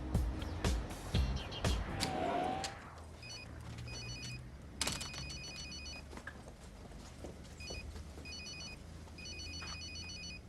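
A mobile phone rings in a quiet room, its short electronic ring bursts repeating steadily after a brief clatter of movement at the start.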